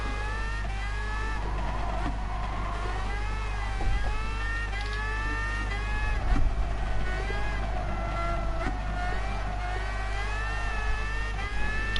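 A race car engine in the GT Sport video game during an endurance series race, a loud steady whine rising and falling through gear changes, continuous with a constant low rumble beneath.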